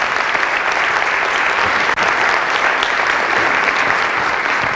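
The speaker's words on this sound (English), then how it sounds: "Give them a big clap" An audience applauds student teachers in a lecture on aesthetics in Swedish schools. Dense, loud, continuous clapping sustains evenly throughout with no talking over it.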